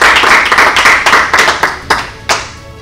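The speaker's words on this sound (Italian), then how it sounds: "Facciamo un applauso" A small group claps for a marshal at an Italian army call-up ceremony, with sharp, close handclaps thinning out over about three seconds until a few final isolated claps.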